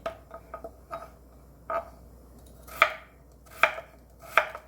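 A knife thinly slicing a potato on a cutting board for Korean doenjang stew: a run of sharp, close chopping clicks, irregular at first, then spaced, heavier strokes, with quiet gaps between cuts.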